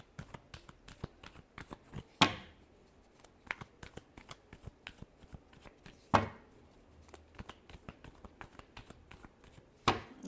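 Tarot cards are shuffled by hand indoors in a close, dry run of papery riffles and flicks, with three sharper, louder snaps spaced through it and no voices.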